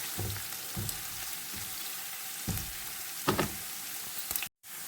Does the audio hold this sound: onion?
yes